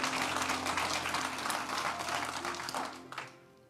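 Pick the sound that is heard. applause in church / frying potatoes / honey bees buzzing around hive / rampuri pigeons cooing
applause in church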